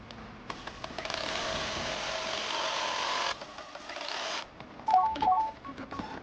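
An embroidery machine stitches fabric onto stabilizer with a steady, close mechanical whir for about four seconds. It then stops, and a few lighter clicks and taps follow.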